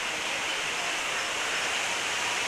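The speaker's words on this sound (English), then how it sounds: "you got the waterfall in the background" A waterfall at Animal Kingdom roars in a steady, unbroken hiss of rushing water, even and fairly soft, with no voices over it.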